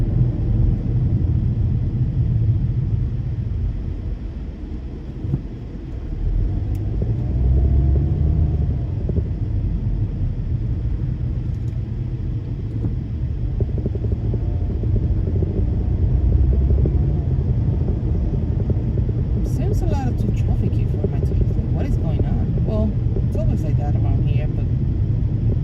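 Road traffic on a Sunday night in Fort Lauderdale, a steady low rumble of cars that carries through the whole stretch, with a voice talking over it and a few brief clicks and rattles near the end.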